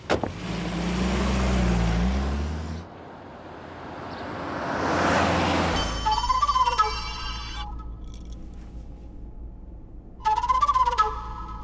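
A car engine hums and a passing whoosh swells, then an electronic ringtone chimes in repeated melodic bursts, pausing and starting again.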